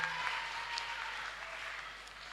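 Audience applause at a panel discussion on feminism and women's leadership, a steady wash of clapping from a crowd, fairly distant and even, fading slightly toward the end.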